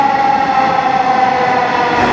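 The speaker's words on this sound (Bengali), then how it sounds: "রেলের সাউন্ডটা সত্যি অনেক ইন্টারেস্টিং।" A metro rail train at a station, loud and close, with a continuous rolling roar carrying a sustained high whining tone throughout.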